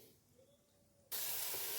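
Khoya drops into hot ghee: near silence gives way to a sudden loud hiss and steady sizzle that holds to the end.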